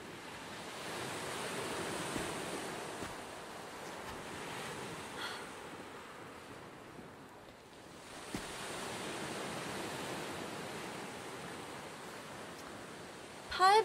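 Sea waves wash onto a beach in a soft continuous surf, rising and falling gently with a faint breeze and no speech.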